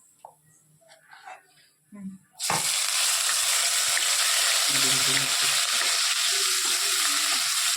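Green chilies and green garlic drop into hot oil in a pan for vaghareli khichdi: after a few quiet seconds with faint voices, a loud, steady, close sizzle bursts in and holds, with a little stirring clatter.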